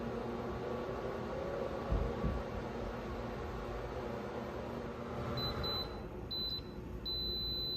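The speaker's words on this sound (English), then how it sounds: "when the timer goes off, the oven automatically turns off" A Nuwave Todd English Pro-Smart digital oven's timer gives a series of short, high electronic beeps near the end, over a constant fan-like hum from the running oven.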